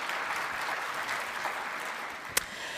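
An audience at a plenary session of a French conference in Montpellier claps steadily at moderate volume, a dense even applause with one sharp clap standing out near the end.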